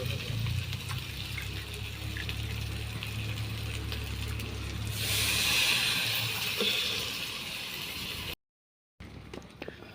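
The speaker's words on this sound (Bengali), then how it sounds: "এলা হচ্ছে জল দিয়ে দিন।" Water poured into a hot cooking pan of fried spices for a Bengali snail curry, a loud rushing hiss and splash bursting midway over steady mechanical clatter, then a brief cutout and quieter aftermath.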